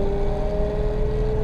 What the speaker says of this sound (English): You can hear immediately how noisy that gearbox is.